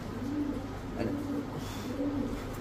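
Low, throaty coos of racing and Giribaz pigeons repeating in a steady rhythm, close by, over a constant background hum with no talking.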